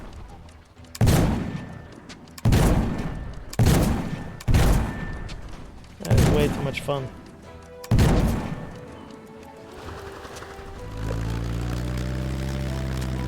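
Airship cannon in the game Black Skylands fires six loud, booming shots at uneven intervals, each with a sharp onset and decaying tail, then a steady engine-like drone with a low hum takes over; a voice speaks briefly.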